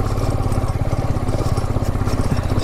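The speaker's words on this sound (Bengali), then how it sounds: "বাইকের পিক আপেও প্রবলেম করছে।" A motorbike engine labours on a mountain road toward Sandakphu with weak pickup, a steady, loud low-pitched drone with rough pulsing and a wash of wind and road noise.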